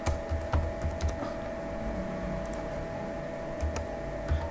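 Card details for a Mastercard entered on a computer keyboard during an online exam application form, with steady keystrokes over a low hum and a few louder clicks standing out near the start and end.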